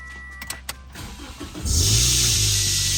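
A Toyota Yaris with a freshly repaired exhaust is started. A few clicks come first, then the starter cranks briefly and the engine catches into a loud, steady, broadband idle roar that carries on to the end.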